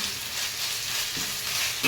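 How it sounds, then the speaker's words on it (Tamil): A spoonful of ginger garlic paste sizzles and fries in a pan, a steady close hiss with a brief stir, no talking. "ஒரு ஸ்பூன் ஃபுல்லாக இஞ்சி பூண்டு பேஸ்ட் போட்டு வதக்கிட்டு"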